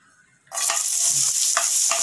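Onions hit hot oil in a pan after a near-silent start, bursting into a loud, steady sizzle that keeps crackling up close, with a few sharper spatters and stirring scrapes.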